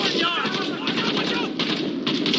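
Rapid bursts of rifle and machine-gun fire rattle in a military shooter game, dense repeated shots layered with shouting voices amid urban combat noise.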